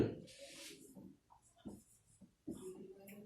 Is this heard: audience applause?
no